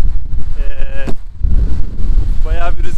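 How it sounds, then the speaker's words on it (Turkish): Strong outdoor wind in England buffets the microphone with loud, gusty low rumbling that swells and dips throughout, while a person talks over it. "Bayağı bir rüzgarlı hava."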